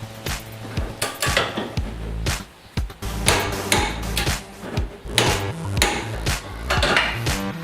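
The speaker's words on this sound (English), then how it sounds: "so we'll torque those now" Torque wrench tightening sway bar bracket bolts on a Mazda MX-5, giving loud, close metallic clanks and clicks in irregular bursts, with no talk.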